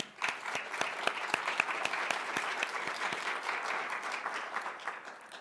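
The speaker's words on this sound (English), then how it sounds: "Let's give them a round of applause." Audience applause at a state poetry recitation finals event, a dense steady patter of many hands clapping with scattered sharper claps, sustained evenly for several seconds with no talk over it.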